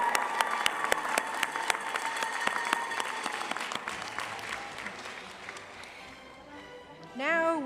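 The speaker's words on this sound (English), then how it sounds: "One last round of applause for the class of 2023." At a residency graduation ceremony, a crowd applauds with sharp individual claps for the class of 2023, tapering off, followed by a brief voice at the end.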